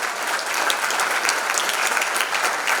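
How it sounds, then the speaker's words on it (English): Steady, dense applause from an audience at the KZN Youth Business Awards ceremony, a continuous wash of many hands clapping at close range with no pause across the short span. "A big round of applause, ladies and gentlemen."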